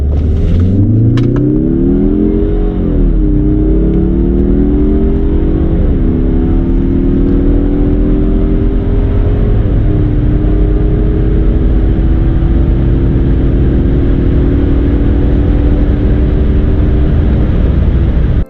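A stock 2021 Mazda 3 sedan with the 2.5L turbo engine launches hard and accelerates steadily, its loud engine note climbing in pitch through several upshifts over a continuous roadway drone, with no talking.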